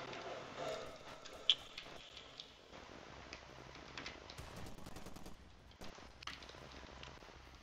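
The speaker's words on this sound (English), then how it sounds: "Who the fuck is shooting?" Faint, distant bursts of gunfire in the video game Far Cry 2, scattered quick pops and rattles over a low ambient background, with no talking.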